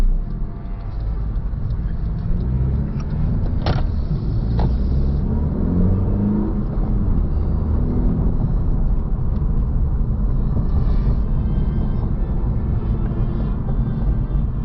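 A car drives through New Orleans-area streets toward Metairie, a steady low engine and road rumble filling the cabin throughout, with a couple of brief clicks or knocks early on.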